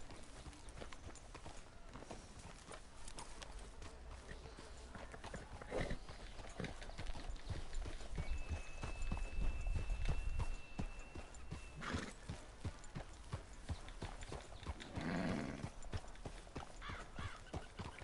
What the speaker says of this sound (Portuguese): Vamos, cavalo.